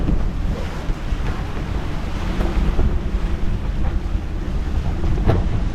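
Strong wind at sea aboard a Beneteau 423 sailboat gusting near 38 knots: loud, constant roaring wind buffeting the microphone over rushing waves and water along the hull, with no voices.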